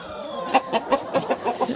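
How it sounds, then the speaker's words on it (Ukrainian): A rooster and hens cluck close by in a farmyard, a quick run of short rhythmic clucks repeating evenly with no voices. "Це цей півень з посилки, бачите?"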